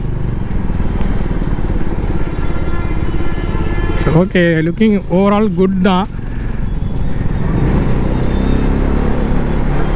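A 2022 Benelli TRK 251 motorcycle being ridden, its engine and road noise forming a loud, steady roar throughout, with someone speaking briefly in the middle over the drone.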